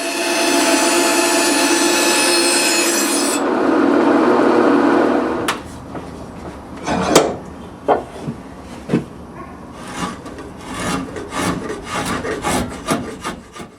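Wooden hammer handle being shaped by hand at a workbench, first a continuous loud rasping stroke, then a series of sharp scraping strokes and knocks in an uneven rhythm, close and without talk.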